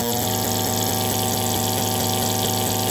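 An MFOS Ultimate analog synthesizer with expander gurgles out rude, liquid-like sounds, a loud, dense bubbling burble with rapid pulsing overtones that runs steadily throughout, with no voice.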